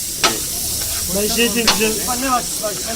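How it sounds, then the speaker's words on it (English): Food seasoned with oregano, sumac, chili and salt sizzling and frying in a pan in Istanbul, a steady hiss with a few sharp crackles, while a person talks close by. "that's frying up real nice"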